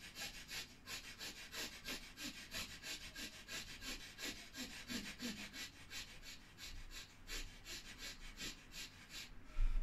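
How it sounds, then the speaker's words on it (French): Bhastrika pranayama breath work through the right nostril, with rapid rhythmic forceful nasal puffs repeating steadily about three per second, close and fairly quiet, no talking. "je bloque la narine gauche et j'inspire à droite"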